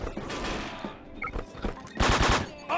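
Gunfire in the online shooter game Wolfteam: a brief volley of loud, rapid shots, then a denser burst at the end, with no talking.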